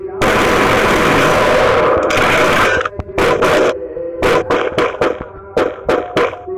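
Bursts of video game gunfire from a lone wolf shooter: a sustained roaring volley followed by a string of sharp, separate shots in uneven rhythm, loud and close.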